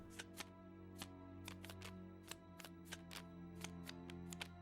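Cards shuffled in the Tabletop Simulator video game, a series of quick, crisp clicking riffles repeated a dozen or so times at an uneven pace over a steady low hum, faint overall.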